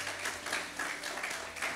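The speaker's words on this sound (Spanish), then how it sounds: "Le aplaudimos nosotros desde acá." A church congregation applauds for a birthday during a Sunday service, a short burst of steady, soft clapping from many hands.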